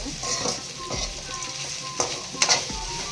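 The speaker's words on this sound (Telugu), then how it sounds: "పునుగులు టిఫిన్ అయిపోయిన తర్వాత బెండకాయ ఫ్రై చేస్తున్నాను." Okra frying and being stirred in a pan, a steady close sizzle broken by a few scraping stirs.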